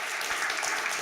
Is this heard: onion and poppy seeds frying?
no